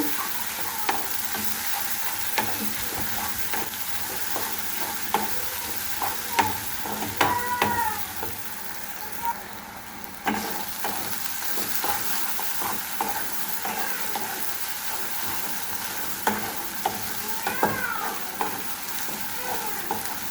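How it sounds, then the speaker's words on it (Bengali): Ginger-garlic paste frying in soybean oil in a pan for chicken, a continuous soft sizzle with frequent spatula scrapes and crackles, close by and fairly quiet. "আদা রসুন বাটাটা আমি একটু ভালোভাবে ভেজে নেব।"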